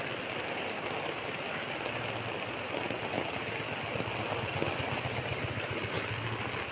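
Heavy rain pouring down steadily outdoors near home during a sudden downpour, a constant dense hiss with a faint low engine-like rumble underneath, no voices.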